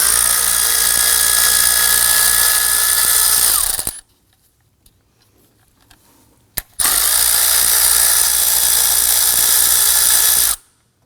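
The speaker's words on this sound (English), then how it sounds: "we use our 8mm socket to loosen and remove these two bolts" Power drill or impact driver with an 8mm socket spinning out two bolts on a 2003-2014 Volvo XC90 engine bay, two loud continuous whirring runs of several seconds each separated by a quiet pause with a brief click.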